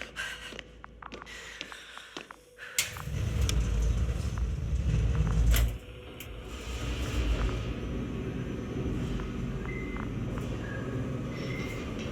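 A deep, heavy rumble swells in and holds steady as a lander spacecraft descends in a video game, with a lighter airy roar continuing after, no voices.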